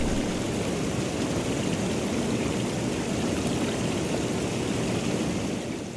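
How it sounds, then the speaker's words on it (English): Hot tub jets running, a continuous loud rush of churning, bubbling water that stays steady throughout, heard close up with no one speaking. "Turn the jets on and just pour it in."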